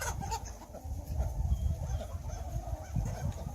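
Chickens and ducks in a barnyard being fed sunflower sprouts, clucking and honking calls layered over a busy rustling background, moderately close and fairly continuous.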